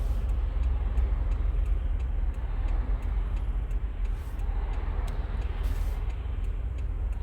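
A car cruises along Melbourne's Peninsula Link freeway, heard from inside the cabin: a constant low road and engine rumble with a soft periodic ticking over it, steady and unbroken for the whole stretch.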